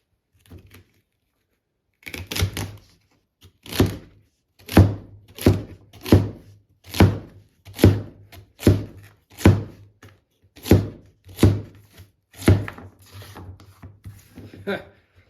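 A forged chopper made from a hockey stick chops vegetables on a cutting board, a steady series of about a dozen crisp wooden thunks in an even rhythm, close and clear.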